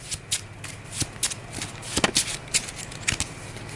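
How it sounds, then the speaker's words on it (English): A deck of cards, the Hunch deck from a card game, being shuffled by hand in quick papery riffles and taps, close and alone without talk. "I'll go ahead and shuffle the Hunch deck"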